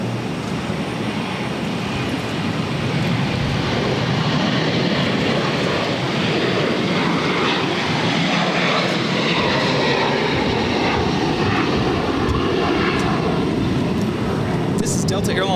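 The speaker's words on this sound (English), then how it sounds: "Delta Airlines 1398 taking off to New Orleans on a 737-800" A Delta Boeing 737-800 takes off from Boston Logan, a broad, sustained engine roar filling the whole stretch at steady loudness from a distance, with people talking faintly underneath.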